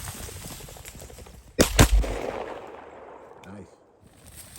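A single loud shotgun blast cracks out in a field during a chukar bird hunt, with a fast double report and a fading tail, and quiet outdoor ambience and faint movement around it.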